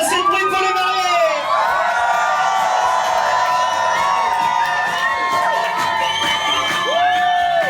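Wedding guests cheer and shout for the newlyweds, a loud, continuous mix of whoops, yells and children's voices with raised, sliding cries overlapping throughout.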